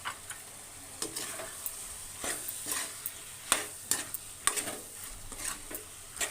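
Potatoes are stirred into curry frying in a pan: a soft, steady sizzle broken by irregular scraping and clinks as the spoon works through the mix.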